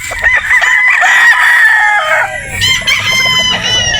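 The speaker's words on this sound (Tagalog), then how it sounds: "So ito naman po yung ating bolik mga bossing." A bulik rooster crows loudly and close by in a long drawn call, followed by a second shorter crow with clucking from other fowl, no talk.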